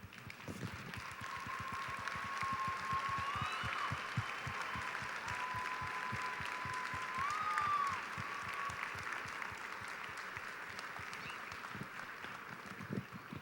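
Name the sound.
banquet audience applause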